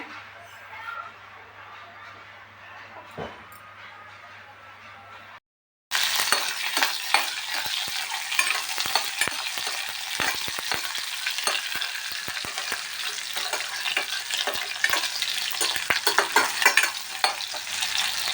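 Mustard seeds sizzle and crackle in hot peanut oil for sprouted horse-gram sambar, starting after a quiet stretch and then turning into a loud, dense spatter of pops very close up that continues to the end.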